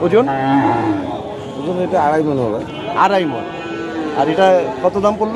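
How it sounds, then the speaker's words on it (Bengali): Small local-breed bulls at a cattle market low and moo in long, drawn-out calls, close by, while people talk over them about weight and price. "এই গরুগুলি চিটাগাং চলে যাবে"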